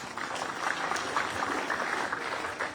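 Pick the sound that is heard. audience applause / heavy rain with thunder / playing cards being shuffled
audience applause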